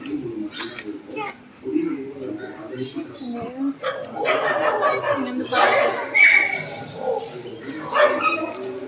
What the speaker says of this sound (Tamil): இங்கே வீட்டாண்ட நாய் சண்டை நடக்குது.